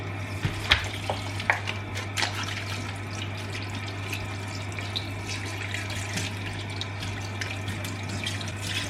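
Water runs steadily with splashing and scattered clatters as chicken is rinsed under a tap, over a low constant hum.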